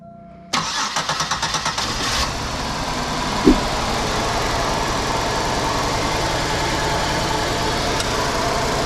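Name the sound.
2005 Buick Park Avenue engine cranked and running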